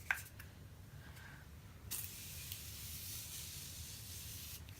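A fine, continuous mist of Morphe Continuous Setting Spray hisses softly for a few seconds after a click, close by and fairly quiet, with no talking.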